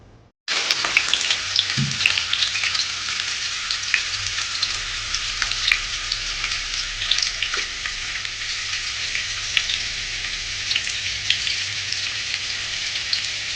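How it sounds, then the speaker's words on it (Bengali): Two medium sliced onions drop into hot oil for Rajasthani laal maas, bursting into a loud, steady crackling sizzle that holds evenly throughout, with a faint low hum beneath and no talking. "এবার আমি 2টো মিডিয়াম সাইজের পেঁয়াজকে এখানে স্লাইস করে নিয়েছি, সেটা আমি তেলে অ্যাড করে দেবো।"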